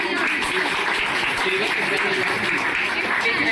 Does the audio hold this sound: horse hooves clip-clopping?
no